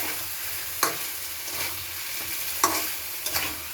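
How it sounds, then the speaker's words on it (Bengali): Spices fry in a pan on a home stove, giving a steady close sizzle broken by a few sharp stirring scrapes, with no talking. "দেখো মশলাটা ভাজা হচ্ছে, দেখতে পাচ্ছ?"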